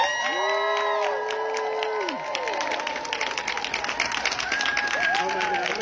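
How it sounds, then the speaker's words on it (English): Audience at an actors' summit cheering and whooping as a speaker is welcomed, with loud sustained shouts and yells over a bed of continuous clapping that keeps going throughout. "give her a round of applause"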